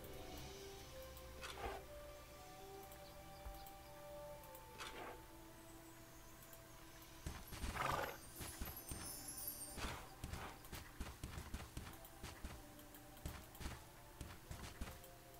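In the Bella Sara video game, a horse's hooves clip-clop in an irregular, fairly quiet walking rhythm, with scattered louder thuds and game effects; a faint neigh may be mixed in.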